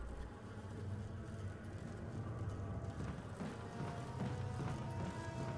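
Bees buzzing in a room in the Resident Evil 1 Remastered video game, a steady droning hum with faint game ambience and no voices.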